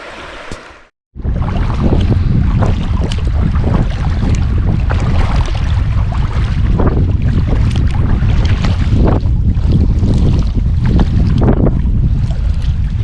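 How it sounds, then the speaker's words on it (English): Steady, loud wind roars across the microphone on an outdoor boat trip heading south toward a dam, with water and hull noise mixed in after a brief gap at the start. "on the way south, we're going to use this wind to our advantage as much as possible"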